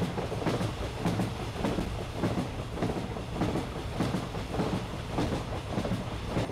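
Passenger train coach rolling on rails, a steady rumble broken by rhythmic clickety-clack wheel beats, moderately loud and close, with no talk.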